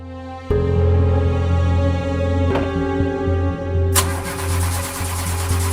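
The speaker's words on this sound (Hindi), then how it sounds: "गाड़ी स्टार्ट नहीं हो रही।" A car engine cranks repeatedly without catching, a loud steady starter whir with a rhythmic pulse. A sharp click sounds partway through, and a hiss rises near the end.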